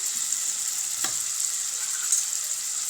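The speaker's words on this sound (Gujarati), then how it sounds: "સરસ રીતે મિક્સ કરી લઈશું" Chopped tomatoes and salt being mixed in a frying pan over low gas, a steady close hiss of frying with one soft scrape of the spoon partway through.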